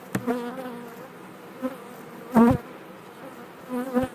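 Honey bees buzz in an opened hive colony, a low droning hum with a few sharp bumps and clicks, heard close and without speech.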